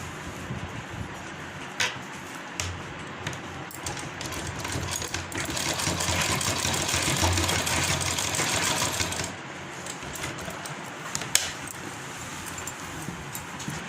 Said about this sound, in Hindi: अब मैं इस पर यहाँ से सिलाई लगाना स्टार्ट करूँगी।